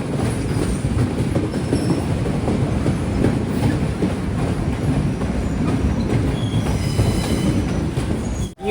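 A second-class train runs along the Galle to Colombo coastal line in Sri Lanka, its steady loud rumble and rattling wheels on the rails filling the whole stretch, with faint squeals and no voices.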